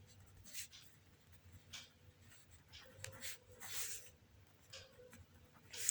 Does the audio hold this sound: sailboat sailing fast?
no